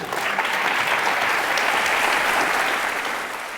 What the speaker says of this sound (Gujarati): જો આ જે તાળીઓ વગાડી રહ્યા છે